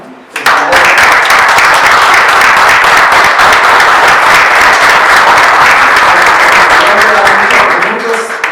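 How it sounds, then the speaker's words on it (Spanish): Loud, full applause from an audience at a book presentation with author Jenaro Martínez López, bursting in abruptly and holding strong and even for several seconds before tapering slightly. "Un fuerte aplauso"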